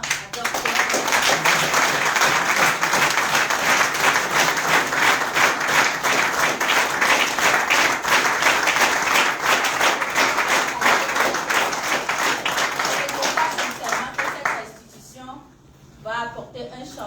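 Sustained audience applause at a Forever Living Products company event, dense continuous clapping for about fourteen seconds before fading, with a voice speaking over the tail end.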